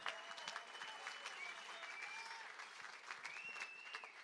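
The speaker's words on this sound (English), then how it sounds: "How about a round of applause for all our fighters here tonight at Infliction?" Applause from the crowd at an Infliction Fight Series combat sports event, a sustained wash of clapping heard from a distance with a few whistles rising over it.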